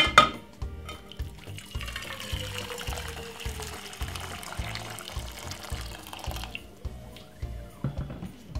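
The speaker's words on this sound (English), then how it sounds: "put 2 cups of boiling water" Boiling water being poured into an empty pot on a stove for cornmeal porridge, a continuous liquid stream with light dripping and pot clatter, close and fairly quiet, with faint rhythmic background beats.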